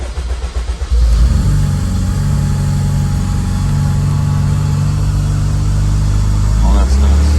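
A Honda Integra Type R K20 engine fitted with a new throttle body revs loud and close after a brief rough start, then holds a strong, steady roar to the end.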